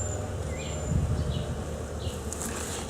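Honeybees in an active, healthy hive give a dense, continuous buzz, close and steady, with individual bees droning past now and then.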